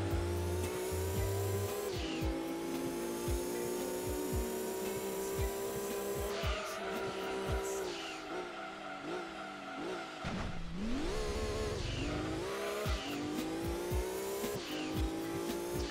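Race car engine in Gran Turismo 2 on PS1, a steady high-pitched drone that drops and climbs through gear shifts, with brief tire squeals in corners, loud and continuous throughout.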